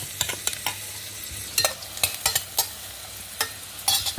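Onions roasting in a pan for brinjal vangi bath, a steady soft sizzle broken by sharp stirring scrapes and clicks at irregular intervals, close and moderately loud with no talking.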